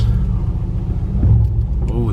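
A Mercedes C63 AMG engine rumbles low and steady while the car reverses, a deep continuous drone with a voice speaking over it near the end.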